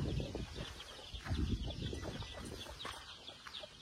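Peruvidai roosters on a farm cluck in quick, soft repeated notes, faint and a little distant, with scattered rustling in the background.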